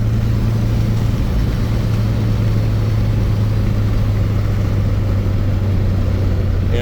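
A car with a failing clutch slave cylinder runs steadily while shifting from third to fifth gear, giving a constant low, droning engine hum with road noise throughout and no distinct rev changes.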